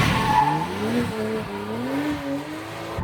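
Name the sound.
BMW Z4 tires skidding sideways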